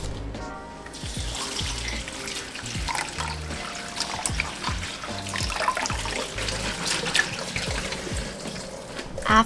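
Tap water runs steadily into a kitchen sink while green beans are rinsed under it, with splashing and shifting trickles as the beans are moved about.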